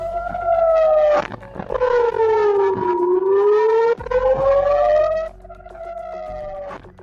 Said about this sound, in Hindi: जिसकी वजह से यहां पर हवाई हमलों के सायरन बजने लगे